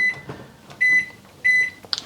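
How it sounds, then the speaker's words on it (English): Microwave oven keypad being set, giving three short high beeps about half a second apart, close and clear in an otherwise quiet room, with a brief final chirp. "I don't even know how to work the microwave."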